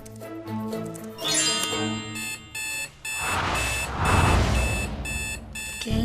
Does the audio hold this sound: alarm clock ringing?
yes